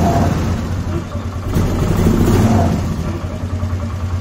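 A Polaris Sportsman 450 ATV engine with a newly replaced fuel pump idles with a steady low rumble, rising into a modest rev midway before settling back, alone without talk.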